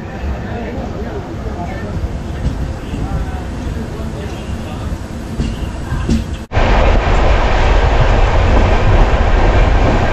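The Pallavan Express running on rails between Ariyalur and Lalgudi, a continuous rumbling roll that jumps abruptly louder and nearer partway through, with a steady mechanical drone.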